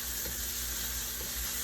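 Two tablespoons of minced garlic sizzling in a frying pan while curry fried rice is made, giving a steady close hiss with a few faint crackles and no talking.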